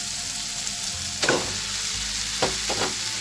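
Cooked rice tossed into a hot pan for fried rice (nasi goreng), a steady close sizzle and frying hiss with a few sharp scraping stirs and clanks, no voices.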